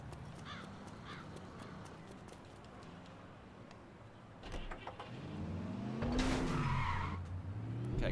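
In The Saboteur, a car engine hums at moderate distance, then revs up and the tyres let out a rising, squealing skid near the end.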